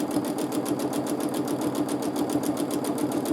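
Sewing machine stitching free motion quilting stipples runs at a fast, even, pulsing rhythm, close and steady throughout with no talking.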